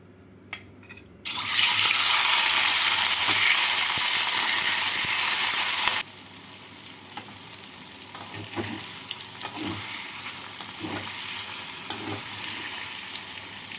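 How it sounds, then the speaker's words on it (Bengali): Paneer pieces fry in hot oil in a kadai: a loud, dense sizzle bursts in after a second and holds for several seconds, then settles into a quieter, steady crackle with occasional stirring clicks. "এই তেলের মধ্যে পনিরগুলোকে দিয়ে হালকা লাল করে ভেজে তুলে নেবো"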